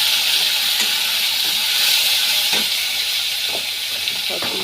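Prawns frying in a pan after garlic and onion, giving a steady bright sizzle throughout with occasional soft knocks of stirring, close and continuous.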